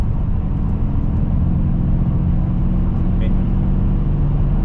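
A Mercedes-AMG E63 twin-turbo V8 cruises at 2,500 RPM in fifth gear, a steady low engine hum with road noise under a voice speaking briefly.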